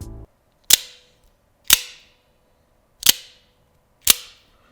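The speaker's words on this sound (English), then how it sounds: "it definitely has a cheaper like ting, a twang to the blade whenever it releases and goes back" A cheap replica Microtech Ultratech OTF knife fires its blade out and back four times, each a sharp metallic snap with a short ringing ting that decays quickly, evenly spaced about a second apart, loud and close with silence between.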